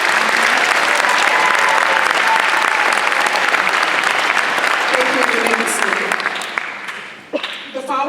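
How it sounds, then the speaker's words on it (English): Audience applause for a group of graduating seniors at a high school graduation ceremony, a steady dense clapping crowd sustained throughout and tapering slightly near the end. "Please give this special group of seniors a round of applause"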